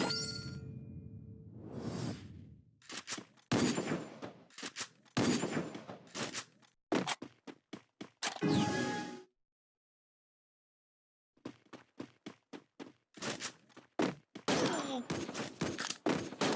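Gunfire from an SVD rifle in the Free Fire battle royale game, a series of sharp, loud bursts and rapid shots with whooshing effects, cut off by a few seconds of silence before more firing resumes.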